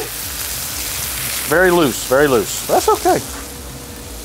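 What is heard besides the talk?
smash burgers sizzling on a hot griddle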